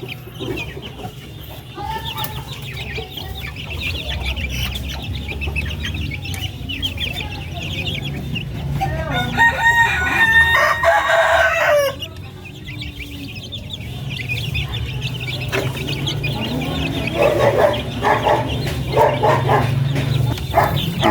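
Native chickens and month-old chicks cluck and peep around a coop, a continuous close flock chatter with louder bursts partway through and a dog barking in the background.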